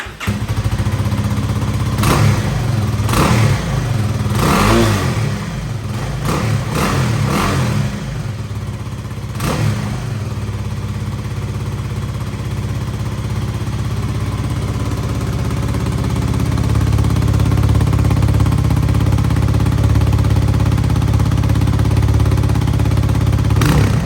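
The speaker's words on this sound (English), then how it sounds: "All right, so this is gonna be the stock exhaust." Kawasaki KLX300R dirt bike on its stock exhaust, revved in a series of sharp blips before settling into a loud, steady idle, close up and alone.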